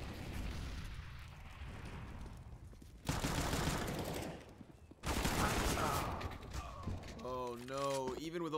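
Dense gunfire from a Counter-Strike match on the Inferno map with pistols in use: loud, sustained bursts of shots with a short lull between volleys, and a commentator's voice coming in near the end.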